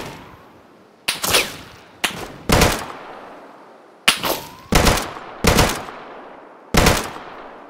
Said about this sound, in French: Ouais, je le touche, hein, des fois.